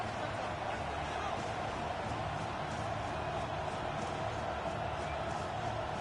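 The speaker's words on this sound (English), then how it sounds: "the crowd getting into it as we come up on a big 3rd down" Stadium crowd noise from a football video game swells as a big third down approaches, a steady, dense roar with faint cheering under commentary-like voices throughout.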